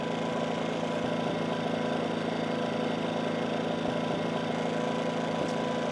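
Cummins Onan P2500i inverter generator running steadily at close range, a loud continuous engine drone with a constant hum and no talk.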